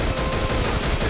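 Rifle gunfire in the video game CrossFire, a steady run of dense, loud shots with a regular rhythm across the whole moment, close and dominant with no voices.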